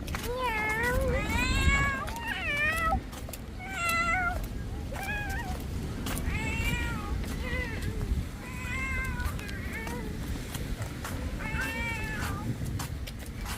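A cat meows repeatedly at a beach in Umm al Quwain, UAE, around eight drawn-out, wavering cries at irregular intervals, close by, over a low rumbling background.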